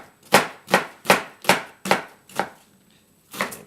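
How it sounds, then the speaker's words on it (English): A knife chops a whole onion on a cutting board for Creole chicken, six sharp, evenly spaced thuds close up, a short pause, then a final chop, with no talking. "cut our onion up"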